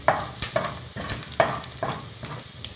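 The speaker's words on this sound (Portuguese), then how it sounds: "agora a gente vai colocar o bacon, tá? Vamos fritar bem" Bacon frying in a pan for feijão tropeiro, a steady close sizzle broken by several sharp stirring scrapes and pops, with no talking.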